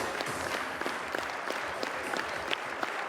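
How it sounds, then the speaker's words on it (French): A crowd at the Cannes film festival applauds a film, a steady, fairly distant wash of clapping with sharper individual claps standing out, with no talk over it. "Et un film très applaudi"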